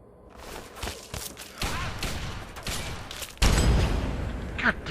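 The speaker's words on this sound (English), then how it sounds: "now he's shooting a dead body" A companion fires a gun at a dead body in the Fallout 3 video game, loosing a string of sharp shots and thumps, with a heavier blast near the end, while people talk over it.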